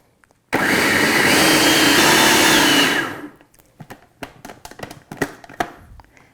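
A blender whirs loudly and steadily for about two and a half seconds while mixing a vegan, dairy-free cheesecake filling, then stops, followed by a few scattered clicks and light handling knocks.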